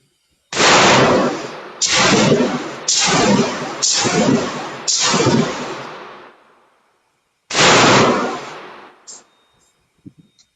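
A Panzer Arms EG200 shotgun firing buckshot at an outdoor range: five loud, close blasts about a second apart, then a pause and one more shot, each ringing out with a long decaying echo.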